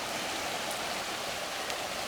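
A creek swollen by a rainstorm rushes steadily past a house, a dense, even wash of flowing water holding at a constant level, with no voices.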